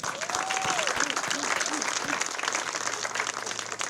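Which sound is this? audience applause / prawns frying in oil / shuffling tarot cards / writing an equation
audience applause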